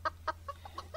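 Chickens cluck in short, evenly spaced bursts, about six quick clucks in a second, fairly faint over a steady low hum.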